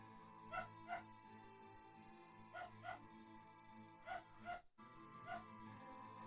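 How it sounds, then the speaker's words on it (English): A neighbor's dogs bark and yip in short paired bursts at a middle distance, with a few whimpering tones between barks over a steady background hum. "Nah, it's just the neighbor's dogs."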